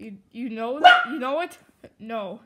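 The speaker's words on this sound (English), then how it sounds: "Oh, that's my dog." A dog barks and yips a few times in quick bursts close by, mixed in with people talking.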